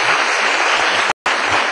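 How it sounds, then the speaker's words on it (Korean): A church congregation claps together in a brief burst of loud, dense applause during a youth Bible lecture, cut by a short dropout before resuming. "그 예수님께 박수 한번 치겠습니다."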